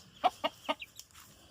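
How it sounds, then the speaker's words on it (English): Chickens newly delivered to a rural Jamaican yard cluck in three short, close bursts, followed by a brief higher chirp and a few fainter calls trailing off. "New chickens everywhere."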